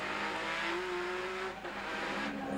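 Onboard a 1991 Nissan BNR32 GT-R race car at Lakeside, the engine drones steadily and loudly from the cockpit with a brief dip and a sustained rising tone.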